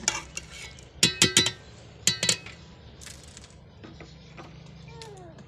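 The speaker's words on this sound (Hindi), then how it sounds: "अब इस पानी को अच्छी तरह पका लेंगे।" Aloo matar curry of potatoes and peas being stirred in a pot, a few sharp spoon-on-pot scrapes and clinks in two short bursts over a faint, steady simmer.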